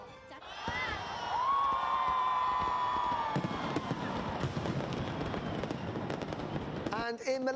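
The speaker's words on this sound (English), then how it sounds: "celebrations centred, as they always do, around the capital's Taipei 101 tower, with fireworks there set to music" Crackling New Year fireworks pop and burst continuously over a roaring, cheering crowd at Taipei 101 tower in Taiwan, set to music, with whistling shouts rising early on.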